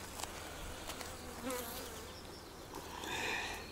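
Honey bees buzz at an open beehive during a frame inspection, a soft, continuous droning hum that swells slightly toward the end, with no talking.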